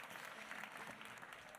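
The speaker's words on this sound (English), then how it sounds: "Can we make a big round of applause for Steve Leventhal?" An audience gives a round of applause at a conference session, a dense steady wash of many hands clapping, faint and distant throughout.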